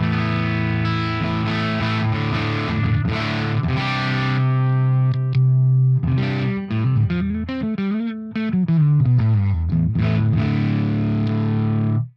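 An electric guitar plays through an Axe-Fx III modelling a 50-watt Marshall Plexi amp, with the middle pickup position selected. Loud, driven chords and sustained notes ring out, then a bending lead phrase returns to heavy chords, with no talking.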